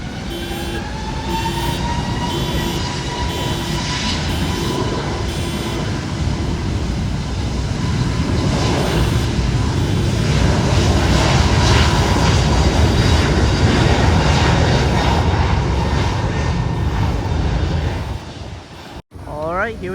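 A Ryanair Airbus airliner takes off at San Juan airport, a loud sustained jet roar that builds and holds with a rising whine, heard from nearby before cutting off abruptly near the end.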